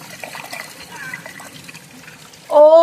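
A deep red banded carnelian rock is rinsed in a muddy stream, giving a low, steady trickle and splash of water under faint background sound, with a louder tonal burst at the very end.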